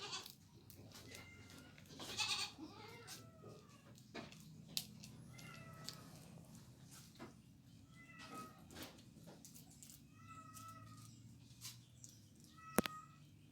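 Jawa Randu goats on a farm, bleating repeatedly in short wavering calls at moderate distance, with other animal noises and a low background hum throughout.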